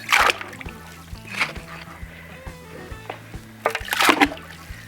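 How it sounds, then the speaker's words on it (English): Dirt being tipped and stirred into a container of water to mix clay slip, with splashing and sloshing bursts at the start and end, and soft trickling in between. "We'll just start adding in some dirt."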